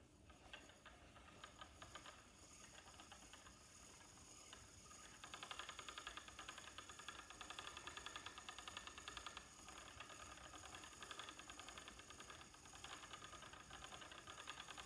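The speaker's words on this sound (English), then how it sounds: "I'm spinning this on the Magicraft little gem" A Magicraft Little Gem spinning wheel spins yarn with a soft, steady whirring and faint rhythmic ticking. The sound stays low and continuous throughout, growing slightly fuller about halfway through.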